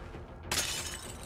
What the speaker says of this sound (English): Break glass for key?